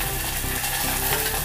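Mustard seeds and dried red chillies sizzle and crackle steadily in hot oil for idli chutney tempering, a loud, continuous frying hiss close to the pan with no speech.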